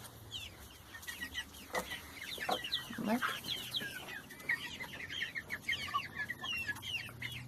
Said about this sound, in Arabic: ودي بقيه الفراخ اهي